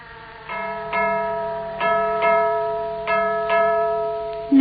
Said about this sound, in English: the signal we heard just now, those 6 strokes on the alarm gong, means to stand by all stations to submerge